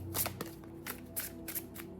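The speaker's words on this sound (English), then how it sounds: "Just give it a quick little shuffle." A quick riffle of tarot cards being shuffled, several soft papery bursts close by and fairly quiet, with no talk over them.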